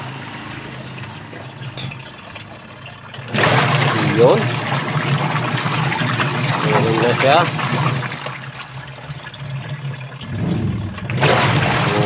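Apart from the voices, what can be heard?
Sharp washing machine running with water after gearcase replacement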